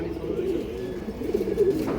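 Old-breed green-necked pigeons with purple-red feet coo in a steady, low, rolling murmur that runs throughout, fairly close and continuous with small swells.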